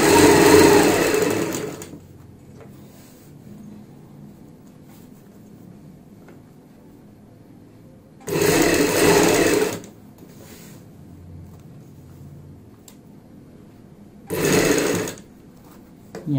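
A sewing machine runs in three separate bursts, the longest near the start, as it stitches a lace strip onto a kurti neckline. Quiet pauses with faint handling noise fall between the bursts, and no one speaks.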